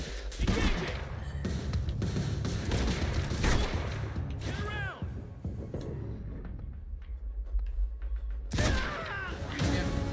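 Bursts of gunfire in the video game Quantum Break, several sharp volleys and thuds scattered through a busy, loud mix of game action, with no talk.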